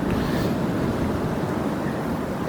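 Ocean waves on a beach in the late afternoon, a broad continuous wash of surf with some wind rumble, steady and fairly loud with no voices.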